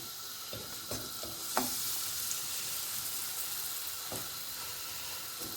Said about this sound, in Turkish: gayet kızgın tavanın üzerine döküyorum. Yumurtam şöyle şıkır şıkır bir kaynasın iyice kaynasın.